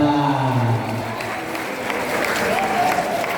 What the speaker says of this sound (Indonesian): tepuk tangan untuk grup rebana